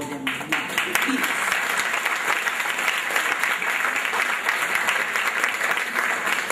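A conference audience at the Rex Nettleford Arts Conference breaks into sustained, even applause that swells after the first second and carries steadily, with a voice speaking briefly at the start.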